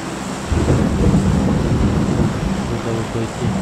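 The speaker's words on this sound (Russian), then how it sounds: "Дождь." Rain and rolling thunder in a video game, a continuous heavy wash of rainfall with deep rumbling that swells and holds steady throughout.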